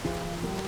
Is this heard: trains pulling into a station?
no